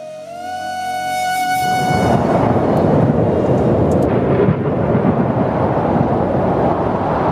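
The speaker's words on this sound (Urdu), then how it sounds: "یہاں پر تیز ہوائیں چل رہی ہیں، بہت تیز ہوائیں۔" A sound effect of strong storm winds on Saturn, beginning as a tonal drone that gives way to a loud, rushing, roaring wind with a deep rumble, which swells and then holds steady without any speech.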